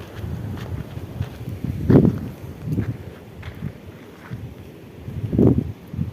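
Outdoor wind gusting across a rural farm setting, with a steady low rumble of microphone buffeting that swells into louder gusts around two and five and a half seconds.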